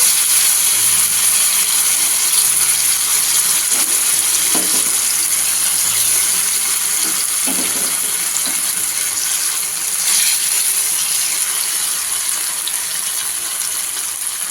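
Fish pieces fry in oil in a pan on a stove at medium heat, giving a steady, close hiss and sizzle throughout with a few faint clinks. No one speaks.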